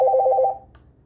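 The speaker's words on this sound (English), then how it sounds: "A call will make it ring like a phone." A Wuloo wireless home intercom rings like a phone on an incoming call, a loud steady electronic warble for about half a second, then cutting off with faint clicks.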